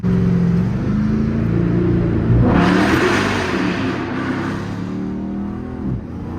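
A Chrysler 300 SRT 392 V8 roars loudly and close for several seconds, swelling to a brief peak of revving before easing back into a steady, rumbling drive with no talking.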